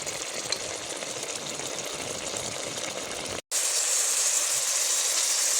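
A vegetable fry cooks in a pan as its water dries off, giving a loud, continuous hiss of sizzling steam that drops out for a brief moment and then returns slightly brighter, close up with no voices.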